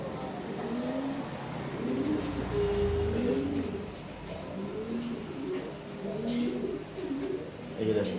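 Racing pigeons at a loft coo in soft, repeated low throaty calls, fairly close, while someone talks over them throughout.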